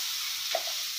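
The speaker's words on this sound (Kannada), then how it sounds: "ಉಪ್ಪನ್ನ ಸೇರಿಸಿದ್ರೆ ಬೇಗ ಈರುಳ್ಳಿ ಫ್ರೈ ಆಗ್ತೈತೆ ಫ್ರೆಂಡ್ಸ್" Onions fry with salt in a pan for an egg palya, giving a brief, even, close sizzling hiss with no voices.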